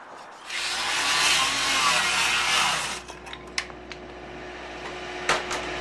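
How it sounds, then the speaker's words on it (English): A Skilsaw circular saw set to 45 degrees slices a compound miter cut through wood for a hip jack, a loud whining buzz for about two and a half seconds, then winding down with a few knocks and clatters. "Then you'll pull out your skill saw and set it up on a 45-degree angle."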